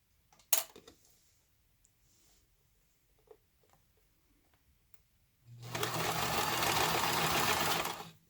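A sewing machine runs a steady stitch over a folded zipper tab on a DIY zipper pouch, starting after a quiet stretch of faint handling clicks and a sharp tap, then buzzing continuously and closely for a few seconds.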